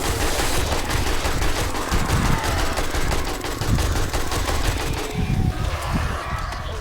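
Pistol gunfire in the 7 Days to Die video game: rapid, loud, closely spaced shots crack in a continuous stream with little pause between them.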